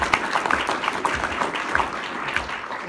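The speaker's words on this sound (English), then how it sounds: "let's give Greg a round of applause" A modest round of applause at an officers' induction ceremony, scattered individual claps forming an uneven patter from a small gathering, fairly close and steady.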